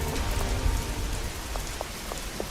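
Steady rain falls in the Schedule I video game, a dense, even patter of drops hissing on surfaces for the whole stretch, with a few brighter individual drips standing out toward the end.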